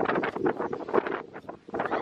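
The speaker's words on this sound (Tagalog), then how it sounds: "Ang lakas ng hangin." Strong wind outdoors during apricot picking, gusty buffeting on the microphone in rapid pulses, loud and rough, with a brief lull near the end.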